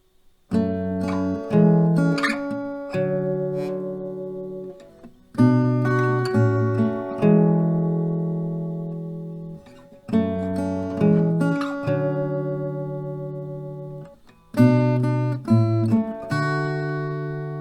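An acoustic guitar picks out the melody of a song, single plucked notes in short phrases with brief pauses, played close with no voices.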